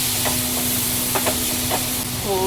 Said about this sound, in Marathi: जे कांदा चांगला परतला, आता टोमॅटो ॲड करते.